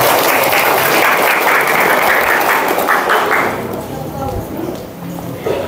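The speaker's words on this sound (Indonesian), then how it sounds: "Tepuk tangan dulu." Audience applause at an indoor talk on early marriage, loud and dense at first, then thinning out toward the end under a murmur of voices.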